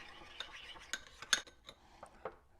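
Metal spoon clinking against a bowl while whisking mustard with three tablespoons of olive oil for a prime rib rub: quiet, irregular taps and scrapes close by, with no talk.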